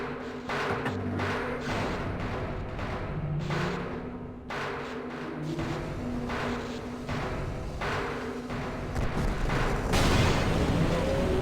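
In the video game Half-Life, a test rocket launch sets off heavy booming blasts and crackling detonations that roll through a dense, rumbling barrage, with a louder explosion bursting near the end.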